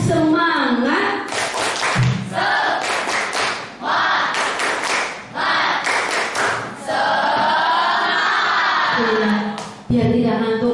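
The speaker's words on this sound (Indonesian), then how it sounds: "Tepuk semangat." Indonesian classroom students performing a 'tepuk semangat' clapping chant, loud bursts of rhythmic group claps mixed with shouted voices and cheers, repeated in patterned clusters.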